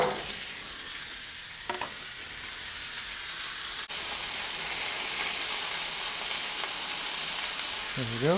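Ground sirloin patty and a steak sizzle on a Blackstone flat-top griddle, a steady close hiss of frying that runs the whole time, with a brief rise in intensity near the middle.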